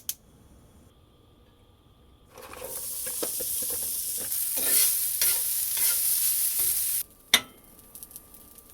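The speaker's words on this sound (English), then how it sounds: "if we douse it in enough oil and fry it up" After a quiet start, French fries drop into hot oil and burst into a loud, steady hissing sizzle with crackles for several seconds, which then cuts off and is followed by a single sharp clunk.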